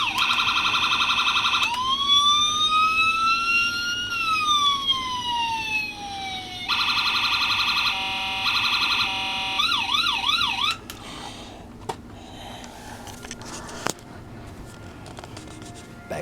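A collectible toy's electronic police-style siren alarm: loud rising and falling wails, then a steady two-tone pulse and a fast warbling yelp, ending in quieter clicks and taps.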